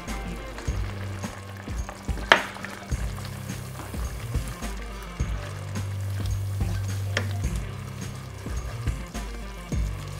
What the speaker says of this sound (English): I'll get this stirred in, and this is going to thicken up the sauce nice the way I like it.